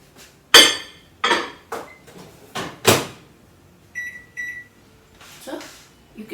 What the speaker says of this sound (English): So now I'm going to put this into our microwave and I'm going to cook it on high for